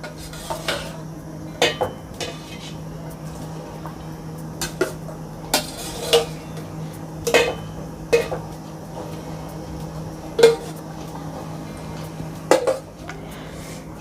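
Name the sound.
stirring payasam with cooked pink balls in a pot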